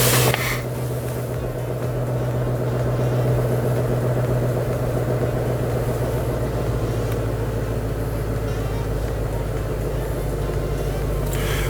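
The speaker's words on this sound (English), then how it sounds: "So here's quiet mode, start up." Shelby GT350 with the exhaust resonator deleted, idling in quiet exhaust mode after a warm start, a steady low droning rumble held close and even throughout.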